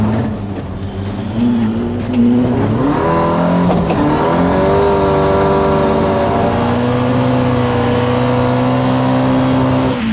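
A Lada-killer car drifts on snow at full throttle, its engine revving hard and climbing in pitch with a brief tire squeal, loud and close, with no voices.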